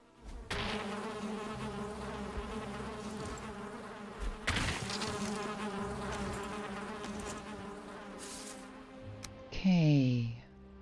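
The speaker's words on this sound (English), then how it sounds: "We've got a bee in here." Insect buzzing of a bee inside a building in the Valheim video game, a steady droning hum that runs through the whole stretch, with brief louder swells and a rising tonal game effect near the end.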